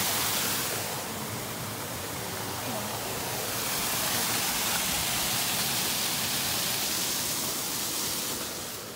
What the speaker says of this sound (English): Stephanie, what do you think of the waterfall?